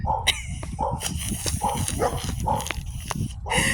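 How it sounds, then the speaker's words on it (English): Dogs bark repeatedly at a moderate distance, a steady series of short yaps under faint background noise. "Y'all hear my dogs in the background?"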